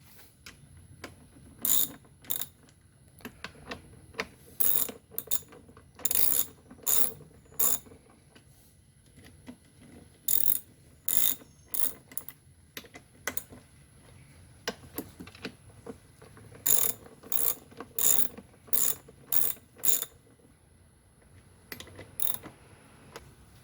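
A ratchet clicks in repeated short bursts of rapid pawl clicks while bolts are tightened on a generator air box during a propane conversion, close and crisp with quiet pauses between runs.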